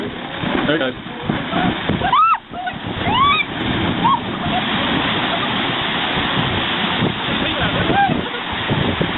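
Ocean waves break against rocks by the shore with a continuous loud roar and surf wash, swelling and easing over several seconds. Brief high chirping calls cut through the noise.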